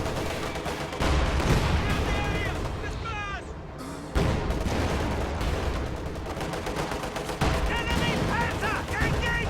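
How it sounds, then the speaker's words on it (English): Mortar fire pounds away in a World War II style shooter match, with repeated heavy booms and rattling gunfire in a dense, continuous barrage under voice chatter. "The mortar's pounding away."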